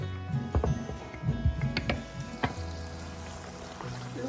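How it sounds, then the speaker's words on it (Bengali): Luchi deep-frying in hot oil gives a soft continuous sizzle, broken by a few clinks and scrapes of utensils and some low bubbling bursts in the first half. "লুচি ভাজা হচ্ছে, গরম গরম লুচি।"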